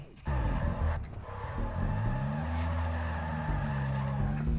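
A car in the shooter Call of Duty DMZ starts up and drives off, its engine droning and rising in pitch with a brief tire skid, loud and close, with no talk.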